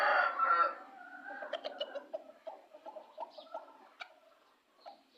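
Aseel chickens cluck in a series of short, close calls, starting loud and then falling into a quicker run of softer clucks with no voices.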